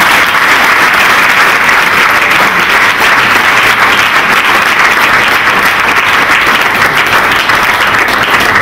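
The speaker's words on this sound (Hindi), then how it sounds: "इनको तालियां बजाइए" Dense, steady applause from an audience at a meditation center runs loud and continuous throughout, with no break and no voices rising above it.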